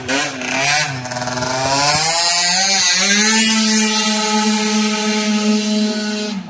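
A chainsaw runs steadily and loudly for several seconds, its engine note rising at first and then holding a high, buzzing whine, close by during a walk to a Kaufland supermarket.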